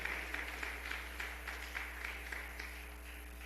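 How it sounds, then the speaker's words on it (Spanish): A church congregation applauds during a Spanish-language sermon, faint scattered clapping over a steady low hum in the room, thinning out toward the end. "Aplauda a Jesucristo."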